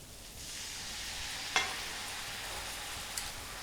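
Red and yellow capsicum sautés in a pan, a steady close sizzle with a sharp clink of a utensil in the middle and a lighter tap near the end.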